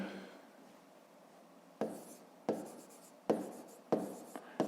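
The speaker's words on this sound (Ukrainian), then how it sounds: "Записуємо отже." A pen or chalk writes out math in short bursts of scratching strokes, five or six quick separate scrawls at close range in a quiet room.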